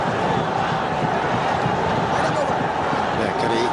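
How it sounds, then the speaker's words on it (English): A capacity crowd at Sher-e-Bangla National Stadium during a Pakistan versus India cricket match makes a dense, constant roar that fills the whole stretch without a break. "Capacity crowd here."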